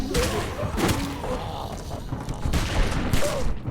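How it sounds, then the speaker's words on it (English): Rapid gunfire from Lee shooting walkers in Telltale's The Walking Dead game, a dense, continuous barrage of close, loud shots and thuds mixed with chaotic background noise. "Lee went trigger happy and popped as many heads as possible until he was out of bullets"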